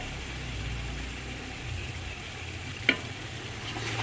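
Cooked beef being stirred into spices in a pot for beef yakhni pulao, a soft steady scraping and sizzle throughout, with one sharp clink of the spoon against the pot near the end.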